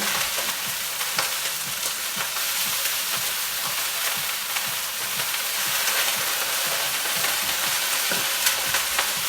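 Onions tossed into a hot sukiyaki pot sizzle and fry with a bright, steady hiss, occasional stirring clicks and crackles close by, no voices.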